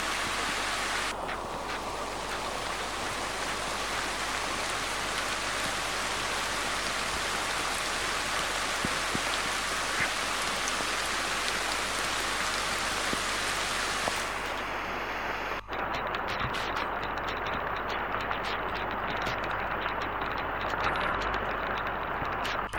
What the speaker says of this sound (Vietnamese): Mưa mấy lúc một to và kéo dài.